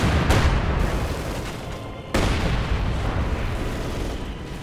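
Mortar fire in a 1v1 match of the strategy video game Company of Heroes 2, a dense wash of rumbling booms and blasts layered continuously, with a sharp new impact partway through.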